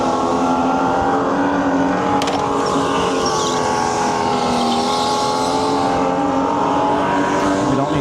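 Supercharged go-kart engine racing on an indoor track in Edison, NJ, a continuous loud, high-revving drone that stays steady and close throughout, with brief tire noise.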